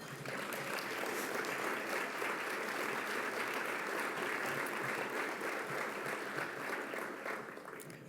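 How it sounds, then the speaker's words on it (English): A room full of attendees at an annual meeting gives staff a sustained round of applause, dense and even clapping that holds steady and then tapers slightly near the end, with no voices over it. "One more time, staff, stand up and let's give them a round of applause."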